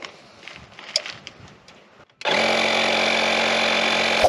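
A small electric tire inflator starts abruptly after a couple of seconds of quiet rustling, then runs as a loud, steady, close buzzing drone until the clip ends.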